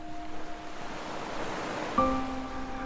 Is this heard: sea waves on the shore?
yes